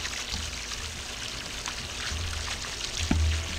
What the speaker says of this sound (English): That little pump right there that let everybody down does a pretty good job with that fountain.